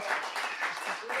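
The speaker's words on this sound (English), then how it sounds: "Give Sara another round of applause." An audience claps in steady applause throughout, a dense, continuous wash of many hands at moderate level.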